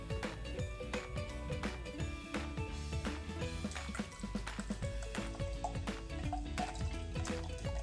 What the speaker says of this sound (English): let's see if there's a big enough hole to pour some of this out.